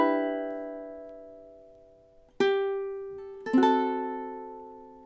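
Ukulele playing measures 7 and 8 of a song: a sustained chord rings and fades, then two fresh plucked chords strike near the end and decay, close and clear with no voice.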